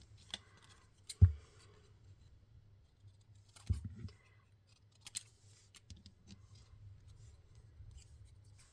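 Scissors snip through paper while making a birthday card, giving a few sharp isolated cuts and soft rustles with quiet pauses between them, close and faint.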